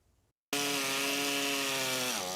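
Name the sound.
chainsaws cutting storm-damaged trees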